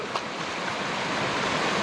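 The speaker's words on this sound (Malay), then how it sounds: "Nah, inilah yang dikatakan jeram." Rapids on the Kenaboi river roar in a continuous, loud, close wash of rushing water with no breaks.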